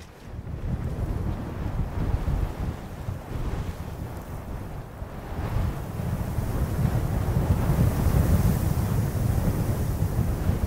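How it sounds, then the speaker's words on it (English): Wind blows over the dunes at Sandwood Bay beach among pale waving grasses, a steady rushing roar with heavy buffeting on the microphone that swells gradually toward the end. "the wind is blowing through these pale, pale grasses, which are waving"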